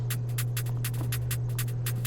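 A dry snare drum sample with no effects, heard as quick, crisp repeated hits in a fast, even rhythm over a constant low hum.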